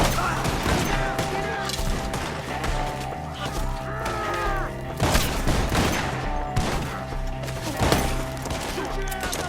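Rapid gunfire in Red Dead Redemption 2, dense repeated shots and thuds in a sustained firefight, with shouting voices and a music-like tonal bed running underneath throughout.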